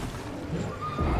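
A horse in the Elden Ring video game gives a short, sharp neigh, close and fairly loud, with a hoof clatter under it.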